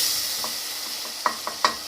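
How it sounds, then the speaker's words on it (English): Steady close sizzling of onions frying in a pan, with a few soft scraping knocks as a utensil stirs them. "After 5 minutes, give it a stir. Sizzling nicely."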